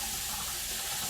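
Warm tap water running steadily into a sink for hand washing, a continuous close, full rushing splash with no speech.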